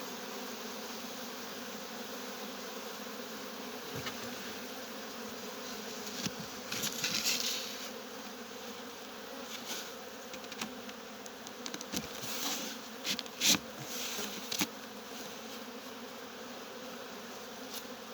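Dense, steady buzzing of many honeybees at a hive being smoked with a walnut-shell smoker, with a few louder passes as bees fly close by, continuous throughout with no voices.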